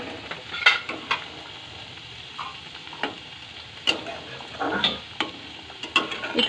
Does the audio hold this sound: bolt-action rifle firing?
no